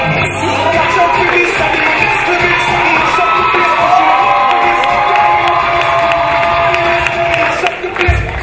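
A festival crowd at an evening show cheers and applauds loudly, with shouts, whistles and clapping blending into a sustained roar that stays strong throughout.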